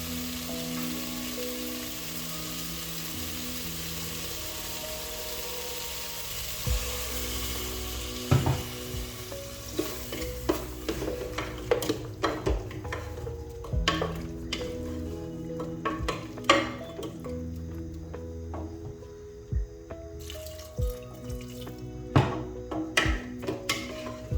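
Beef stew with seasoning cubes and spices simmering in a pot, a soft steady bubbling sizzle broken by scattered clinks and stirring taps, close and moderately quiet.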